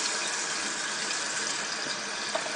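Water sloshes and gushes steadily through a small disposable vape clearomizer as it is shaken and emptied, a close, continuous splashing hiss with no talking.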